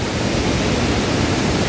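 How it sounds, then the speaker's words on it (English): Rushing water from the Lodh or Dassam waterfall near Ranchi makes a dense, steady roar, loud and unbroken throughout, with no voices. "Another nice waterfall you will all see"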